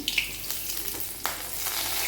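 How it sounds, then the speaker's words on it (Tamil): Steady crackling sizzle of fennel seeds spluttering in hot oil, with faint scattered pops throughout and no voices. "சோம்பு பொரிஞ்சு வர டைமில் நம்ம கருவேப்பிலை ஒரு கொத்து ஆட் பண்ணிக்கலாம்"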